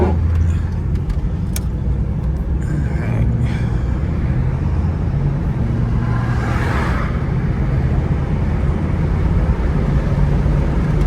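Cabin sound of a 1979 Chevrolet Camaro cruising on the road after a fresh alignment, a steady loud engine and road rumble with constant wind roar and no clear shifts.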